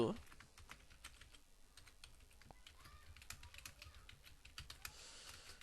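HTML being typed on a computer keyboard: quick, irregular runs of light key clicks with occasional heavier strokes, close and quiet, steady throughout.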